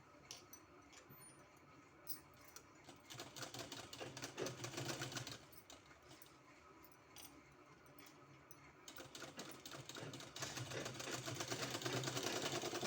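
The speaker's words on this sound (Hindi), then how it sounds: "यहाँ सिलाई लगाना है।" A sewing machine stitches along the edge of a kurti collar, its rapid mechanical whir running steadily and growing louder toward the end, with short pauses between runs of stitching.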